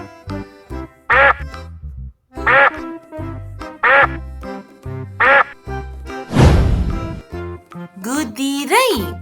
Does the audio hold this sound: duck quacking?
yes